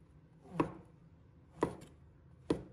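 King oyster mushrooms roll-cut with a knife on a board: three sharp, separate chops about a second apart, clear and close, with no voices.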